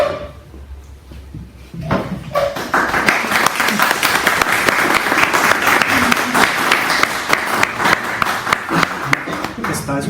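After a few seconds of quieter room sound with some knocks, an audience at a Bible study talk bursts into full, dense applause that holds steady and loud for the rest of the stretch.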